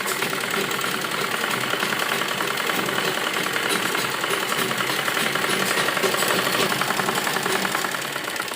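An electric sewing machine runs a continuous double seam on a palazzo, a fast, even mechanical chatter that holds steady throughout, close and loud with no talk over it.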